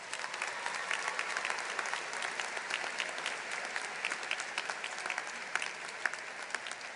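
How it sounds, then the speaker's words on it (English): Sustained applause from a large audience at the Portland State University 2013 morning commencement ceremony, steady dense clapping throughout with no talk over it. "Let's just give them one more round of applause."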